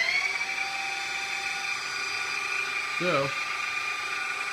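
Electric motor run by a variable frequency drive, holding a steady high whine that shifts pitch as it speeds toward about 1500 RPM, with a brief spoken word near the end.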